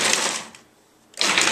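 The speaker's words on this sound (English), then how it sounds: "Lock on your lid, and we're going to pulse again until these are a coarse chop." Food processor pulsing apples and onion to a coarse chop: two short loud whirring bursts of the motor and blade separated by a brief pause.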